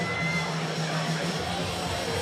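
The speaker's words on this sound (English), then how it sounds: "the raucous crowd at Beatdown Promotions 10" Raucous crowd at the Beatdown Promotions 10 fight event, a dense steady roar of many voices and cheering filling the hall with a constant low hum underneath.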